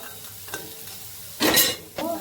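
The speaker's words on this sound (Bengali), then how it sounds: "কতটুকু তেলে বড়াগুলো ভাজছি।" Fritters fry in a little oil in an iron wok: a low sizzle with faint scraping, then a loud burst of hissing and stirring for about half a second, followed by a softer sizzle.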